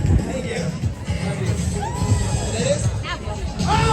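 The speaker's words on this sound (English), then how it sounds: "Do you like the applause?" A tour group at the Royal Palace of Madrid applauds and cheers in a dense wash of clapping, whoops and crowd babble, with voices shouting over the steady noise.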